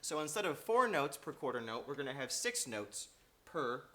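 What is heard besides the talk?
No everyday noise stands out behind the speech.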